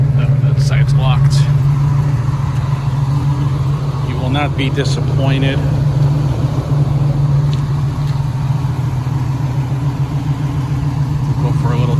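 A 1968 Chevrolet Camaro with a big block 454 engine and automatic transmission idles with a steady, loud low rumble that runs unbroken, while someone talks over it.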